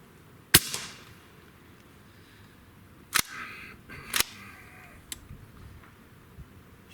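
Four sharp, spaced air rifle shots from an AEA Megalodon crack out alone, each a loud brief snap with a short ringing tail, followed by a faint click or two.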